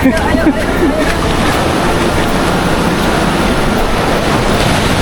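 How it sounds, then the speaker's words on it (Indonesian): Big ocean waves at Greweng beach near Jogja make a continuous, loud, roaring wash of surf mixed with wind buffeting the microphone, with faint voices in the background. "Tapi ombaknya kelihatan gede banget itu yang di sana."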